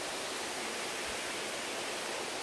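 Waterfall rushing in a continuous broadband roar, steady and loud with no pauses.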